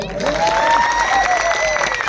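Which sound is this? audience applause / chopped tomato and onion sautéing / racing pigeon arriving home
audience applause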